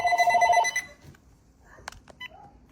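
A telephone bell rings loudly and alone for under a second, then stops, followed by faint rustling and a few brief clicks.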